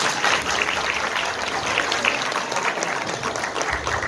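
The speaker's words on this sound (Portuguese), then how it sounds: "Uma salva de palmas, por favor." Steady, even applause from an audience at a book launch event, a continuous wash of clapping hands at modest level with no voices over it.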